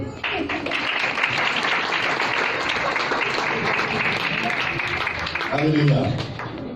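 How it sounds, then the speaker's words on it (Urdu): A church congregation claps during a sermon, a sustained wash of hand clapping from many people that continues evenly before a voice speaks near the end. "اگر آپ کو اپنے لیے تالی بجانی پڑے تو کس طرح بجائیں گے؟"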